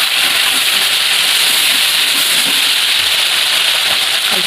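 Ground cumin and ginger paste hitting a hot pan with softened tomato, for a cauliflower and prawn curry, producing a loud, close, unbroken hiss of sizzling oil that holds steady throughout, with no voices over it.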